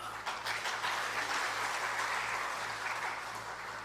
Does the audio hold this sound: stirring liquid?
no